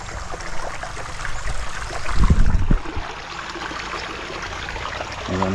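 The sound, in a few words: small stream flowing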